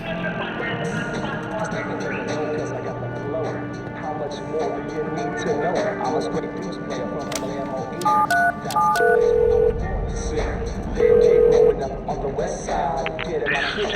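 Telephone keypad tones sound in The Darkness, a few short beeps and a longer held tone near the end, under continuous talk and game background noise.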